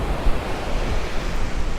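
Ocean surf washes continuously at Crystal Cove State Beach at low tide, a broad rushing roar with wind buffeting the microphone and no voices.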